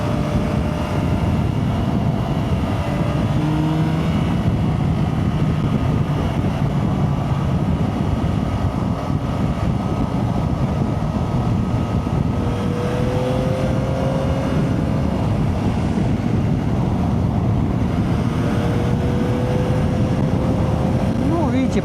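A 2025 Yamaha Tracer 9 GT+ touring motorcycle accelerating briskly on a highway, its engine a steady close drone with rising and falling tones, blended with constant wind rush the whole way through.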